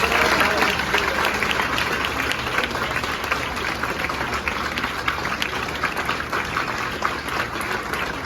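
Loud, steady applause from an audience cheering for Pawan, a drawing teacher, a dense wash of clapping that stays even for the whole stretch with no talk over it.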